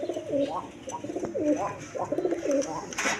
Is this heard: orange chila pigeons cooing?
yes